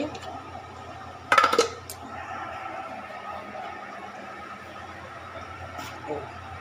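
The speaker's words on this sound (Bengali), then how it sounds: "আমার খিচুড়ি হয়ে গেছে আমি এবার সেটি খুলে দিচ্ছি" A lid comes off a pot of freshly cooked khichuri with a short, bright metallic clatter, followed by a low steady kitchen background.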